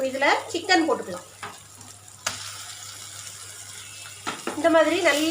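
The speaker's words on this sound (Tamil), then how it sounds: "இப்போ இதில் சிக்கன் போட்டுக்கலாம்." Finely chopped chicken goes into a pan of frying onions, giving a soft sizzle with stirring bursts at the start and end; someone speaks over parts of it.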